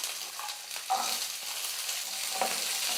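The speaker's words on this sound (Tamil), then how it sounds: "வெங்காயம் வந்து நல்லா வதங்கட்டும்." Small shallots sauté in hot oil in a pan for a goat-head curry. They give a soft, steady hiss with a few brief crackles, and nobody speaks.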